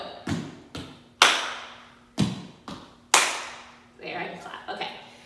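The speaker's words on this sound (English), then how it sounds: "Stomp and clap." Feet stomp and hands clap in a beginner line dance to Copperhead Road: a series of sharp, close slaps and thuds in an uneven rhythm, about seven hits in total, heard alone without talk.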